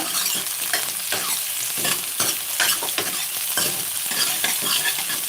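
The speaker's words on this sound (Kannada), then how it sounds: "ಇದು ಸ್ವಲ್ಪ ಫ್ರೈ ಆಗಲಿ ಗೋಲ್ಡನ್ ಕಲರ್ ಬರೋ ತನಕ ಫ್ರೈ ಮಾಡೋಣ" Food fries in peanut oil toward golden, loud and close, with continuous crackling sizzle broken by repeated scraping stirs at an uneven rhythm.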